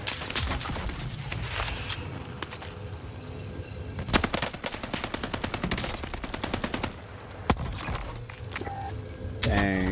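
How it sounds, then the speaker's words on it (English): Gunfire in the video game Warzone Pacific: rapid automatic bursts and single shots crackle almost continuously, loud and close, with brief pauses between volleys. "where are you shooting at me"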